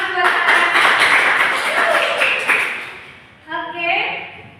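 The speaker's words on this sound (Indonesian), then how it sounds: "Oke, tepuk tangan buat saya." A classroom group bursts into dense applause that carries for a few seconds, then fades as voices come in.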